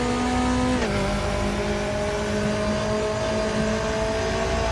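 A Mercedes GT4 race car roars in a sim-racing game at Hockenheim, its engine note holding loud and steady, then dropping sharply on a gearshift and droning on at a constant pitch.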